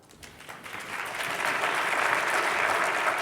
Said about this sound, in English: please welcome the Vice President of Corporate Sustainability from Ecolab, Emilio Tenuta.